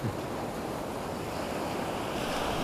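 Sea waves wash onto a beach in a continuous broad roar mixed with wind noise, loud and steady throughout with no voices heard.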